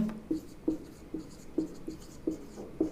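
A pen writes on paper in short repeated scratchy strokes, about eight distinct bursts spaced at a steady rhythm, close and fairly quiet with no talking.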